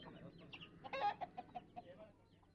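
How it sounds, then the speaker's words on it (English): Vanaraja and Gramapriya chickens cluck in an open rural backyard in India, a short burst of soft clucks followed by several scattered single clucks, moderately distant over faint background noise. "These beautiful and robust birds ramble in the open backyard"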